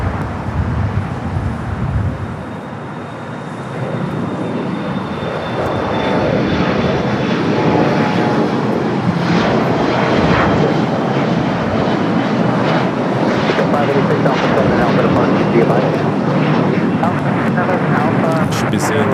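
An airliner takes off from LAX runway 25 right, its engines building to a loud, continuous roar that swells and holds, with tower radio chatter and voices over the noise.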